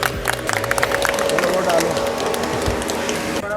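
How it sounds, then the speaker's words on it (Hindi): At a Balaji Vidya Mandir school function, an audience claps to honour a helper who arranged the seating. The applause is close and dense and lasts a few seconds, with crowd murmur and voices mixed in. "तालियों से सम्मान करेंगे एक बार भाई साहब का।"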